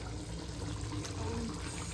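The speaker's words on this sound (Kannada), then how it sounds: "ಚೆನ್ನಾಗಿ ಕುದಿತಾ ಇದೆ." Eggplant gravy thickened with ground peanut powder boils in a pot with water, giving a steady, dense bubbling and hissing that continues without a break and with no voices.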